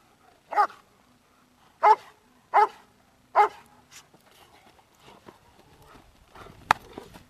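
A herding dog barks four times in sharp, evenly spaced bursts, close by, then quieter scattered sounds and one sharp knock follow.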